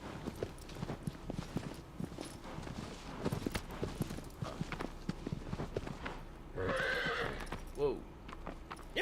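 A horse in the Shadow of the Colossus game clip-clops along with a rhythmic run of hoof beats, then gives a clear whinny near the end, while a person talks over it.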